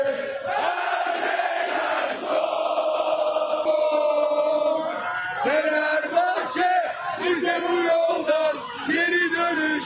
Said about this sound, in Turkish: Burada tezahürat vakti geldi.